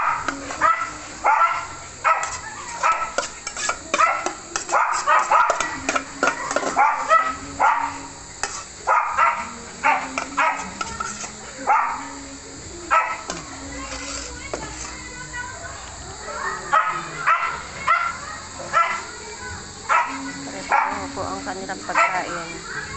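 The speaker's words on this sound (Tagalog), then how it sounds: "Bibigyan na natin ng pagkain ni Boomer. Ito po ang si Boomer, ang aking alaga" A pet dog barks and yips repeatedly while dog food with vegetables is prepared. The barks come in uneven bursts close by, mixed with ongoing household talk and voices.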